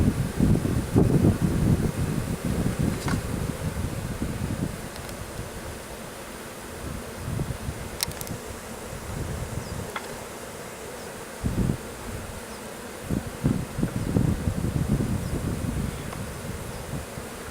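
Honeybees from a packaged colony buzz during installation into a hive, a dense close swarm drone with individual bees zipping past the microphone, no talk, light wind noise underneath.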